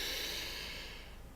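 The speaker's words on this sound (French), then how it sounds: "Et vous allez inspirer par le nez." A soft, steady breath drawn in through the nose during a calming sophrology relaxation exercise, faint and close, lasting just over a second.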